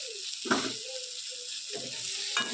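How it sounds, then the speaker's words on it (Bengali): Brinjal fries in hot oil in a wok with a steady, close hissing sizzle, broken by a couple of soft stirring scrapes. "বেগুনটাকে রেখে দেবো বেগুনটা একটু ভালো করে ভাজার জন্য।"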